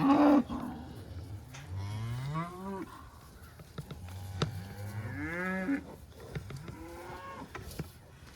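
Several cattle on a farm moo in long, drawn-out calls, one after another and close by, with some rustling and clatter between the calls.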